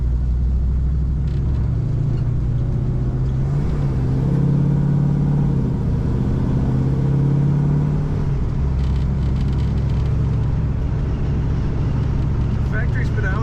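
A 1967 Chevrolet Camaro with an automatic transmission idles with a steady, loud low rumble that swells briefly midway, while a person talks over it.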